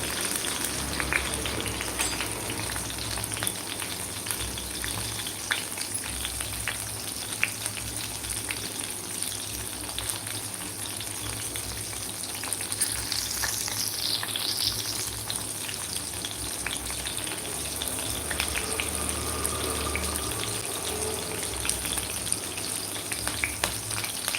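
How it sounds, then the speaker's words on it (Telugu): Green chillies and masala fry for a prawn masala curry, a loud continuous sizzle and crackle in the pan, close and unbroken, with light stirring throughout and no talk. "ఇదంతా కాసేపు ఒక నిమిషం పాటు ఫ్రై చేసుకోవాలి చీలికలుగా కట్ చేసుకున్న రెండు పచ్చిమిర్చి కూడా వేసుకొని ఫ్రై చేసుకోవాలండి"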